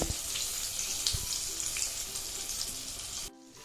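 Stuffed brinjals fry in oil for an Andhra vankaya karam fry, a steady close hiss of sizzling that breaks off sharply near the end, with no talk.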